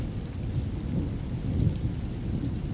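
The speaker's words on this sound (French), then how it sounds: "Quand il pleut en Camargue, la vie renaît du sol." Steady rain pours down in the Camargue, France, in a dense, continuous wash of low rumbling noise, with no voices.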